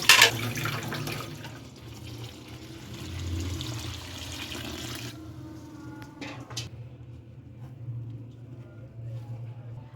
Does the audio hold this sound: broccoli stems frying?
no